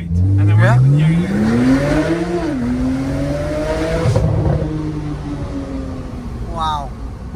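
A decat Porsche Turbo S accelerates hard with a loud rising exhaust roar through the gears, heard from inside the car, with people talking over it.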